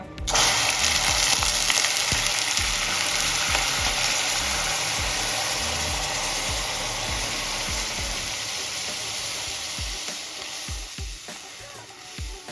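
Milk is poured into caramelized sugar in a hot pan, setting off a loud, dense sizzle that slowly softens over several seconds, with occasional clinks of stirring underneath.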